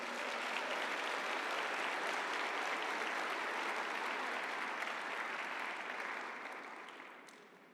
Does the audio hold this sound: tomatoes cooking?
no